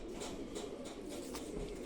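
A pigeon lying at rest coos softly, a faint low murmuring call repeated in a gentle rhythm over quiet outdoor background noise.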